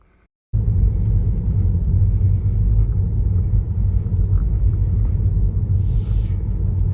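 A car cruises steadily along the winding Rimrock Drive through Colorado National Monument, a continuous low road rumble starting abruptly after a brief quiet moment and holding even and close throughout.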